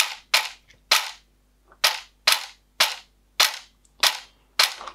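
An SR25 AEG airsoft replica's poorly lubricated gearbox cycling through about nine sharp single shots, each a loud close crack, fired at a quick, slightly uneven pace with no talking.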